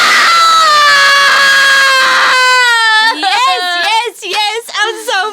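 A woman lets out a long, loud, sustained scream that breaks into shorter wailing cries, close and intense.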